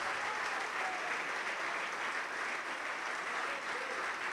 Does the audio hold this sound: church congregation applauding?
yes